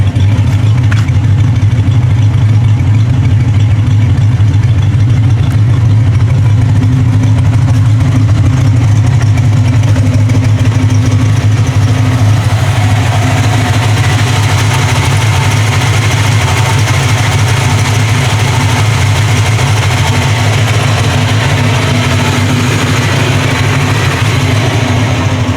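A Ford Mustang engine runs steadily at idle for the whole stretch, a loud, close, even low rumble with a constant hum and no people talking.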